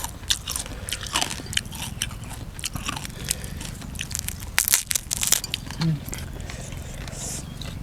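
Crispy fried pork tail is bitten and crunched with several sharp, close cracks scattered through the eating, and voices talking in between.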